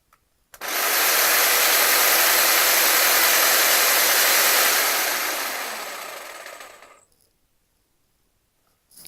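A jigsaw switches on with an abrupt start, then runs steadily and loudly for about six seconds before spinning down and cutting off, leaving near silence.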